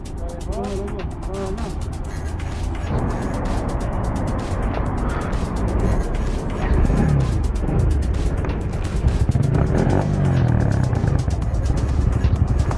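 Motorcycle or car exhaust roaring in congested city traffic, a loud continuous engine rumble with revving swells, heard close from a moving motorbike amid wind noise, with someone talking over it.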